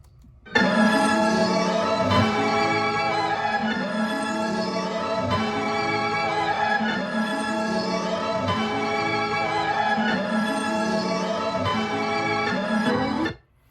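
A looped chiptune-style game music sample plays continuously with repeating melodic phrases, steady and fairly loud, starting and stopping abruptly.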